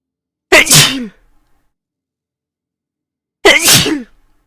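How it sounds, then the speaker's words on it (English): Two loud, close sneezes from a person, spaced about three seconds apart, each a sharp burst with silence in between. "I'm also gonna sneeze in a minute here"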